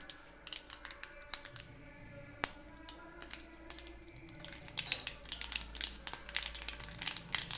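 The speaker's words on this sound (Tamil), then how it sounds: "எண்ணெய் காயட்டும் ஸோ இப்போ கடுகு போட்டுடலாம்" Mustard seeds crackle and spit in a small pool of hot oil while a garlicky Tamil-style dish is being tempered, a steady, busy patter of sharp pops and ticks that continues throughout with no voices.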